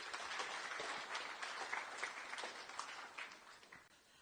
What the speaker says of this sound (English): Give another big round of applause for our sister